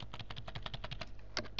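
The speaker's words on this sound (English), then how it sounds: "you can hear me pressing W key" Keys on a computer keyboard are pressed in a quick, steady run of close, crisp clicks, about a dozen taps in under two seconds.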